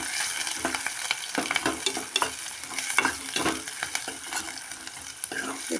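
Onion, chilli and curry leaves fry in hot oil as they are stirred in a pan for ridge gourd dal, giving a soft sizzle with repeated scraping stirs at an even, close rhythm.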